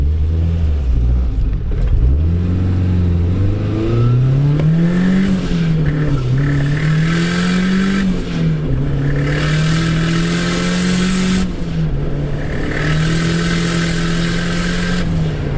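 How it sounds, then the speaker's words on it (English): A turbocharged Datsun wagon with a GT3582 turbo revs hard and holds high, its engine rising and settling in loud sustained pulls, with a whistling turbo spool layered above the close, continuous roar. "you can still hear that damn impeller wheel spinning on that turbo"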